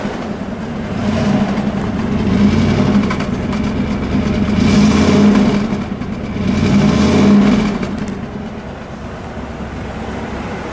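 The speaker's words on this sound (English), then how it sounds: "when you step down it, it has like a luxurious roar" A smooth 1958 Gaylord Gladiator engine rises and falls in two long revving swells, a steady mechanical roar throughout with no voices.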